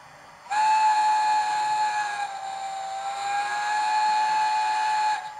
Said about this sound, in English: And if I just show off the whistles,